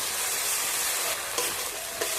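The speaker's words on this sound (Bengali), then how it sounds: "এবার দিয়ে দিচ্ছি আদা বাটা।" Ginger paste hits a pan of tomato already cooked down with chilli and turmeric powder for a milk-free paneer dish, giving a dense, loud, continuous sizzle with a few soft stirring bumps.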